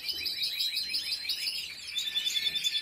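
A pet songbird that has been breeding for three years sings a lively, continuous song of rapid chirps and trills, close and clear throughout with no talking.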